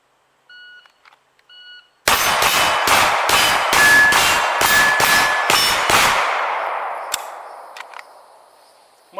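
Rapid string of about nine pistol shots from a Smith & Wesson M&P Pro 9mm fired at targets, loud sharp cracks in quick rhythm with a long ringing decay after the last shot, a few faint beeps before.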